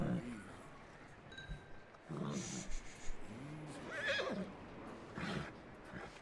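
A horse whinnies within a quiet Red Dead Redemption II game scene, a few short neighing cries over faint background ambience, with someone speaking softly in between.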